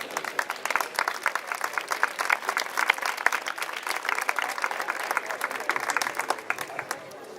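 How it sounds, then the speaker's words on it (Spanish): An audience claps steadily and fairly loudly, a dense, sustained patter of many hands with a faint crowd murmur underneath and no pause throughout. "Un fuerte aplauso para Lebrel."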